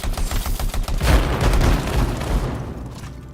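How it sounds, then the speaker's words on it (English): In the video game Anthem, a rocket is fired at an enemy turret, producing a loud, close burst of rapid cracking gunfire and booming impacts that roll on for a few seconds before thinning out. "See if I hit him with a rocket"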